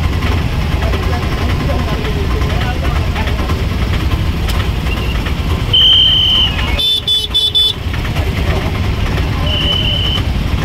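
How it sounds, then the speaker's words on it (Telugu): Dense traffic at a crowded Mahashivaratri festival crossroads in Tirthala, with steady engine rumble and a few short car horn toots cutting through, plus people talking in the background. "traffic full"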